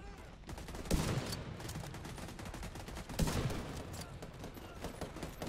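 Rapid gunfire in the video game The Division 2, with continuous overlapping volleys throughout and heavier bursts standing out about a second in and again past the three-second mark.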